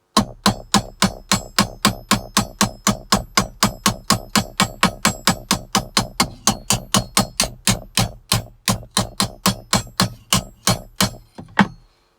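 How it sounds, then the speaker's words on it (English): Rapid, steady hammer blows peening over the end of a metal piece, about forty sharp ringing strikes in a regular rhythm, loud and close, alone without talk, ending abruptly. "I might as well just peen me end over"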